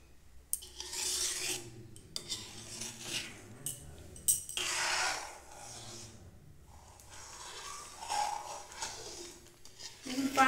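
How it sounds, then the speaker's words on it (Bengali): Spoon scraping and rubbing inside a pot as rice kheer (payesh) sweetened with date palm jaggery is stirred, a repeated rasping with occasional clinks, fairly close and soft, with a voice talking faintly at times. "এই 5 মিনিট মতো পায়েসটাকে নেড়ে যেতে হবে"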